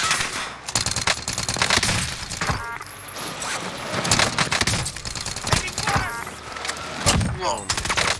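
Gunfire in Call of Duty Warzone, dense bursts of automatic shots and sharp single cracks throughout, loud and close, with voices talking over the fighting.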